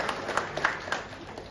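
Applause for an honoree at a press and media association gathering, a faint, steady patter of clapping from a room crowd with a few sharper claps standing out.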